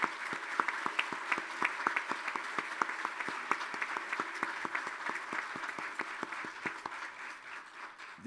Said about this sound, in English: would you mind standing up and let us give you a round of applause?